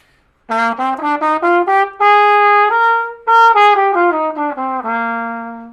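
A horn plays a stepwise scale with a flat seventh up and back down in separate notes, then holds a long final tone, clear and close with no other sound.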